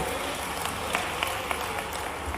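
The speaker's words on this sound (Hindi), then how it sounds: "तालियां बजा के स्वागत करें भाई" Audience applause at a large Indian community conference and youth introduction gathering, a dense wash of clapping with a few sharper claps standing out over a continuous background rumble.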